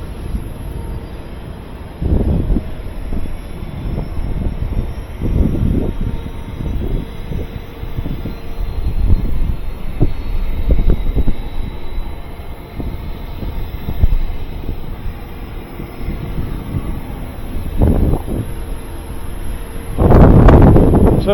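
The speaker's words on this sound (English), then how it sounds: "as soon as they get the APU going, they're going to turn on the packs, and then it's going to be too loud" A Boeing 777 on the ramp with its APU and air packs running, a steady low roaring hum with gusty wind noise buffeting the microphone and occasional louder bursts, no voices.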